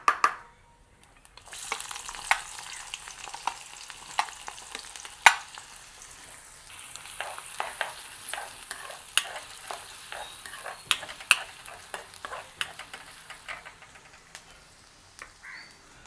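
Mustard seeds, fennel and onion frying in hot oil, a continuous close sizzle with crackling pops and occasional stirring scrapes, a few bird caws faintly in the background.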